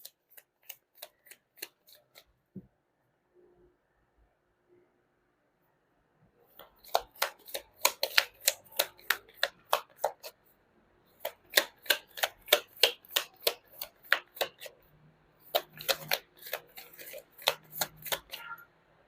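Crystal oracle cards are shuffled in several bursts of rapid, crisp riffling clicks, close and distinct, separated by short quiet gaps.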